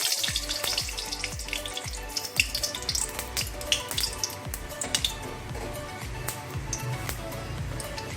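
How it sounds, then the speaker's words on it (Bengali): Green chillies fry in hot oil until crisp, an irregular run of crackles and small spattering pops close by, fairly quiet overall and without speech. "লঙ্কাটা বেশ ক্রিস্পি করে ভাজতে হবে"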